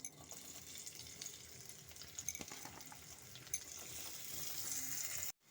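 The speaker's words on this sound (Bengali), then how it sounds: "এখন আমি এর মধ্যে একটু পেঁয়াজটা ভেজে নেব।" Onions fry in mustard oil in a kadai with a soft, steady sizzle, light crackles and an occasional stir, before the sound cuts off abruptly near the end.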